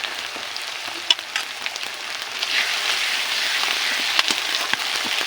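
Ginger and garlic paste fries in a pan with a dense, steady sizzle like rain, building slightly and broken by a few sharp clicks and taps of stirring.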